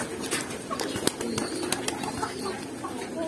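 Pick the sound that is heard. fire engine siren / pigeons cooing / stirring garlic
pigeons cooing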